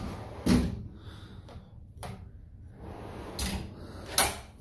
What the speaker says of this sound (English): All the drawers slide out easy.